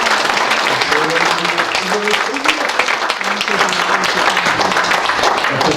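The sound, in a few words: audience applause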